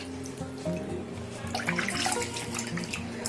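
Water splashes and trickles steadily as vegetable-washing water is poured out and changed, with a gentle running flow under faint background music.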